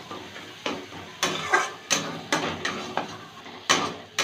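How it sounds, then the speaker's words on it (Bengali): Spices sautéed with ginger paste and turmeric in a pan, a series of regular metal spoon scrapes and clinks against the pan over a faint sizzle, close and without speech. "একটু কষিয়ে নেব।"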